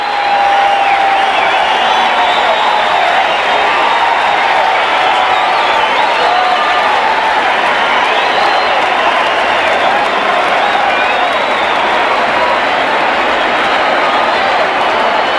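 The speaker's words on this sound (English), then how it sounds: "Let's listen to the crowd." A huge stadium crowd at Tiger Stadium in Detroit roars and cheers after Kirk Gibson's home run clears the right-field roof, a dense, unbroken wall of cheering and clapping that stays loud for the whole stretch.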